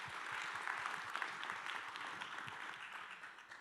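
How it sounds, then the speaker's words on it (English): Applause from an event audience, a dense steady wash of many hands clapping that holds at an even level throughout and eases slightly toward the end. "A warm round of applause to her."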